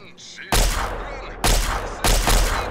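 Gunfire in the video game Fallout 3: three loud, abrupt bursts of shooting, each ringing on with a rumbling tail, separated by short pauses, with no talking over them.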